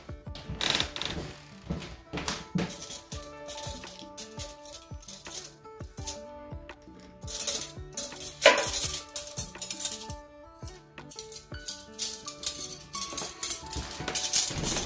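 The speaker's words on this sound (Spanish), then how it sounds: "acá voy a colocar de este lado lo que son los cubiertos." Metal cutlery clinks and clatters repeatedly as pieces are set down one after another on a dining table, sharp close-up jingles with brief pauses between handfuls.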